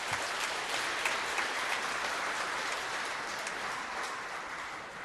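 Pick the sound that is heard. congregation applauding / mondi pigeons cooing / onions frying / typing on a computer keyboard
congregation applauding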